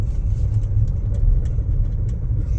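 Daihatsu Karimun car accelerating in fourth gear, a steady low engine rumble and road noise from inside the cabin, moderately loud and continuous with no speech.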